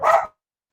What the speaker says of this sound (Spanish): primero calmemos a los perritos